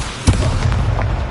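The Incendio fire spell goes off in Hogwarts Legacy as a sudden low boom followed by a rumbling, crackling burst. The sound is loud and close.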